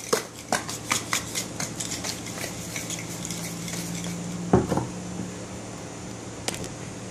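Two capped bottles of homemade dishwashing and laundry detergent are shaken by hand, producing a quick run of rhythmic sloshing knocks up close, then a few scattered thumps and clatters.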